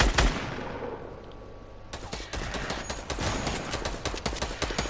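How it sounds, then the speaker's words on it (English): Rapid bursts of enemy gunfire in a video game, a dense run of sharp shots starting partway through and continuing steadily, loud and close over game ambience. "Oh, he's shooting at me."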